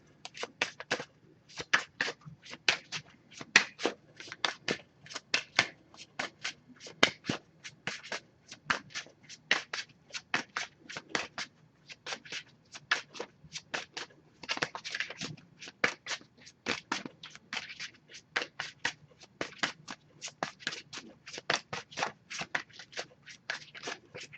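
Oracle cards from a Messages of Love deck are shuffled and handled, with quick papery flicks and riffles repeating in steady bursts, close and crisp, with no talking.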